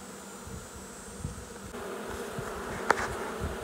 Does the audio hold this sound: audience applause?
no